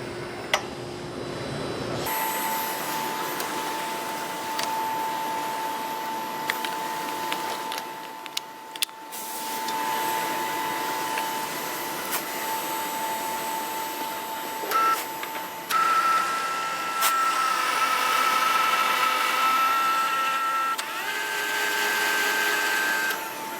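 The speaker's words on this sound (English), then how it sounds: "All of these tap holders have a built-in slip clutch." A Flex Machine Tools tapping machine with slip-clutch tap holders runs at a trade show, a steady mechanical whir with a sustained tone and shifting pitch over a busy hall background.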